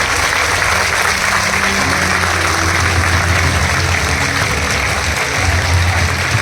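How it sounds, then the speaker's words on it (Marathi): Students at a girls' high school break into loud, sustained applause for themselves, a dense roomful of clapping that continues steadily with a low murmur beneath it. "स्वतःसाठी टाळ्या वाजवा"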